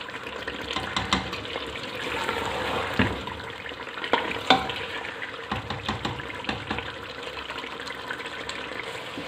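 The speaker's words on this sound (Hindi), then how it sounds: "पाए बिल्कुल भुन चुके हैं।" Goat trotters (paya) fry with garam masala in a pot, giving a steady hiss and sizzle with soft stirring scrapes and a few louder bumps, moderately close and without talk.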